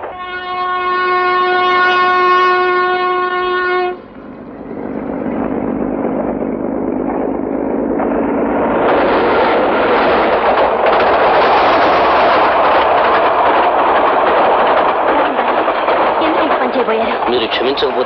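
A train in a Telugu film sounds a loud, sustained horn, then a heavy rumbling roar builds as it rolls past close by and fills the rest of the scene.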